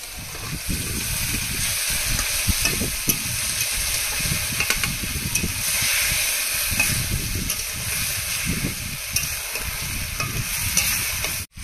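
Loud, continuous frying hiss as fish goes into spice masala in a hot pan, with rhythmic low stirring thumps and scraping running underneath until it cuts off at the end.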